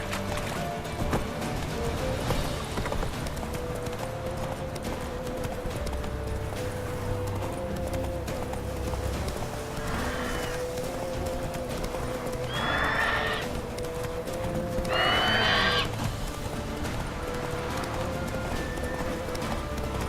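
Roach the horse gallops in The Witcher 3 with a steady rhythm of hoofbeats, and two or three whinnies rise above it near the middle.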